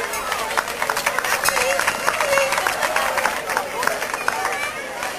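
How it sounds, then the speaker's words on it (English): Outdoor applause for prize winners at a 1994 town carnival in Newent, Gloucestershire, scattered claps over crowd chatter and a speaker's voice. "Round of applause for them."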